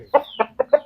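Four quick, close clucks from a chicken, sharp and evenly spaced within under a second, with no talk over them.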